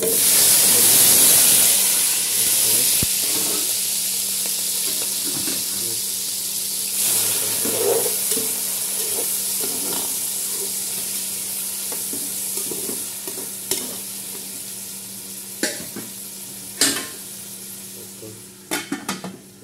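Green chilies, onion and tomato fry and get stirred in olive oil for a red amaranth greens dish. The sizzle starts loud and fades gradually, with steady hissing under repeated stirring scrapes and a few sharp clinks near the end.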